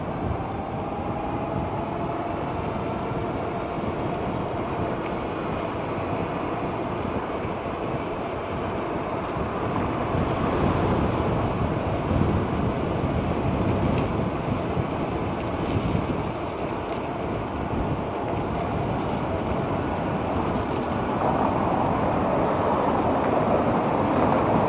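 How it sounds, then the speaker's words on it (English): Heavy wind roars steadily across a bike-mounted action camera mic while cycling through Toronto, a dense broadband buffeting with gusts and water-like surging, no voices. "as I ride into a heavy wind"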